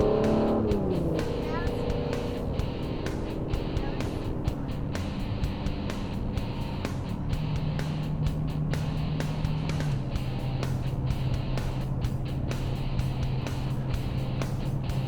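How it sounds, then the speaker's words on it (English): An Aston Martin DB11 with a twin-turbo V12 and roughly 600 horsepower accelerates on wet ground, its engine note rising steadily and then holding a sustained drone, close and loud, with faint tire slip noise. "Finally get a little bit of the acceleration, and make sure the camera doesn't turn"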